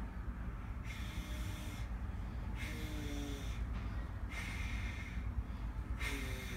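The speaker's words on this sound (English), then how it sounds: "I'm breathing too much" A patient breathes heavily through the mouth while fluid is drawn from a swollen left knee, steady rhythmic hissing exhalations repeating about every second, close and continuous over a broad noisy background.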